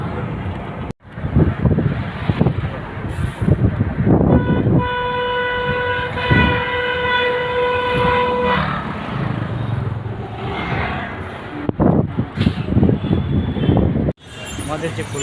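Local commuter trains from Naihati rumble at a platform of Sealdah station, with a long, loud train horn sounding for several seconds amid clattering wheels and a person talking.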